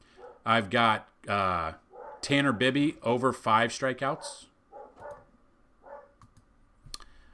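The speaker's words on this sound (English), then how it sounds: "I don't know if you could hear my dogs barking in the background," Dogs bark faintly in the background of a room while someone talks steadily in the foreground. A few short yips and barks show through in the quieter moments.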